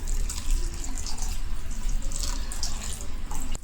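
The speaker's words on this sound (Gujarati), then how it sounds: "500 ગ્રામ ટોપરાનું ખમણ છે તો તેની સામે 1 લીટર આપણે દૂધ નાખીશું." Full-fat milk poured from a vessel onto 500 g of grated coconut in a kitchen, making a steady close liquid gush and splash with a brief bubbling trickle, no talk.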